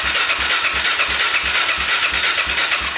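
A Suzuki DRZ400 motorcycle engine cranks over on the starter during a compression test with a new battery, making a steady, rapid chugging rhythm of even compression pulses, close and loud throughout with no one speaking.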